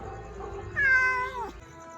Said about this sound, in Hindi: बहुत आलसी बिल्ली है, बहुत आलसी बिल्ली है।